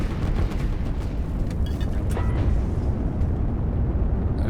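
A rocket launched in the strategy game Line War detonates in a sustained, rumbling explosion, a dense roar of blast and debris that stays loud throughout.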